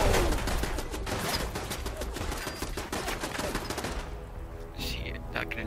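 Automatic turrets in the video game Fallout 4 fire a continuous rapid rattle of loud shots for about four seconds, then a few scattered quieter bangs and mechanical clatter follow.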